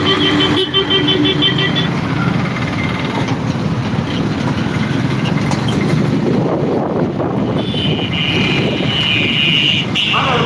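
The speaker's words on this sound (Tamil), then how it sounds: "ஒரே டிராஃபிக்குங்க டிராஃபிக்கை கண்டாலே நம்மளுக்கு பிடிக்காது" Road traffic surrounds a motorbike rider on the way from Vedasandur to Dindigul, with a constant rumble of engines, a passing vehicle's whoosh and a couple of horn toots near the start and end.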